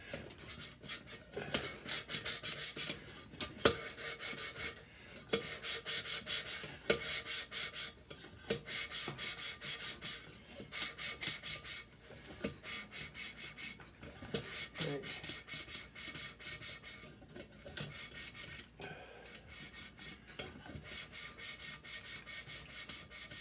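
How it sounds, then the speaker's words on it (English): Engine valves on a Cat 60 cylinder head are lapped with lapping compound, giving a soft gritty rubbing that comes in regular back-and-forth bursts, fairly quiet and close, with no talk. "Now I'm gonna put a little lapping compound on the valves and check the contact."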